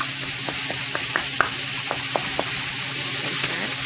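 Ground beef sizzles in a pan as it gets broken apart, with a steady hiss of frying and a few soft scraping stirs, close up and with no one talking.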